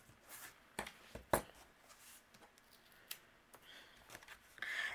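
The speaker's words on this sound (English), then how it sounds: "we'll go ahead and trim away the tails" Scissors snip card ribbon tails in a few sharp, quiet cuts scattered over a soft background, close by and alone.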